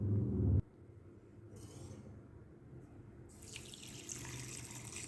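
Water poured from a cup onto sugar in a pot for a raw mango chutney gives a steady, close splashing stream after a brief louder thump at the start.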